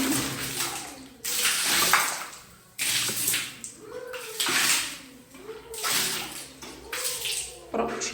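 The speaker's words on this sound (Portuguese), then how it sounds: "E agora eu vou jogar uma água com água sanitária e esse removedor aqui, ó." Water mixed with bleach is poured in bursts to rinse a bathroom, splashing loudly onto tiled surfaces in several separate gushes with short pauses between them, and quieter trickling in the gaps.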